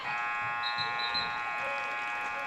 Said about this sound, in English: as the buzzer sounds, we'll go into halftime